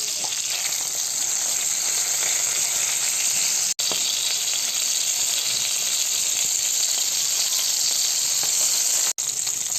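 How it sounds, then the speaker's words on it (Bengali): Koi fish frying in hot oil alongside winter cauliflower, a loud, continuous, even sizzle with faint crackles, briefly interrupted twice by short dropouts. "মাছটা ভাজা হতে হতে আমি কিন্তু মাছটাকে দুই একবার এরকম করে উল্টে উল্টে ভেজে নেব"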